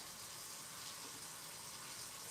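Hot water runs from a kitchen tap in a steady, soft hiss and splash, faint and continuous, with no voices over it.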